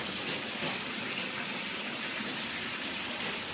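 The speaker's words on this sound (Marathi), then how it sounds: "मी आता इथं कपडे टापात भिजू घातले धुवायला बसते" Clothes soaked in a tub at a water tank are washed, with a continuous close wash of running and splashing water at an even level and no talk.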